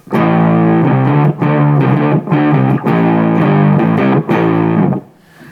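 A heavily distorted electric guitar through Pitchfork octave and Angry Charlie distortion pedals, with a thick octave-doubled tone, plays a loud chugging riff of sustained chords, then rings out and stops.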